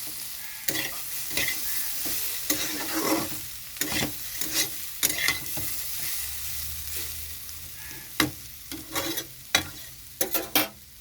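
Potatoes and papaya frying in a pan, with steady sizzling broken by repeated scraping stirs of a spatula, close and fairly loud, with no voices.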